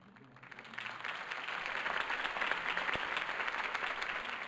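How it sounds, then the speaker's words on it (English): Crowd applause in the video game Batman: The Telltale Series swells from quiet to a steady, dense clapping that fills the whole clip, heard at a moderate distance. "could have heard that applause"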